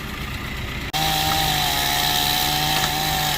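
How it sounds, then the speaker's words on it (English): A chainsaw cutting down trees outdoors, heard close and loud: a steady high whining engine drone starts suddenly after a brief lower rumble and holds without pause. "Looks like Dad's cutting some trees down."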